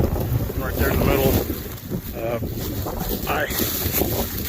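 Strong wind buffets and roars across the microphone in uneven gusts beside a parked 4Runner, rising and falling without any voices.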